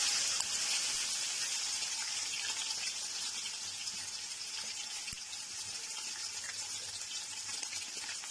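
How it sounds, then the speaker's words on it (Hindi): Onions fry in cooking oil in a pot, a steady hissing sizzle that stays even throughout, with a faint clink or two of utensils and no voices. "प्याज को गुलाबी होने तक जो है वो हम फ्राई कर लेंगे।"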